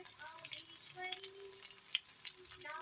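Potatoes sizzling in a pan while upma is cooked: a soft, steady frying hiss with faint scraping and stirring sounds, fairly quiet, with a few small pops.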